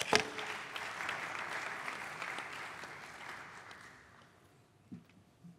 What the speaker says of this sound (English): I'm always nervous when people clap before you've said anything